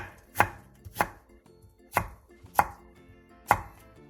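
A knife julienning a thick chunk of radish on a cutting board, five crisp separate chops at an uneven pace, close and clear with no voices.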